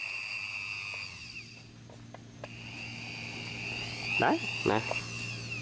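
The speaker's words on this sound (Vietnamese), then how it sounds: "mình khoan cả chục lỗ vẫn bình thường" Electric drill powered through a 29 m HATAYA extension cord reel, running smoothly at light trigger pressure while boring many holes; a steady motor whine runs throughout, with brief spoken remarks over it.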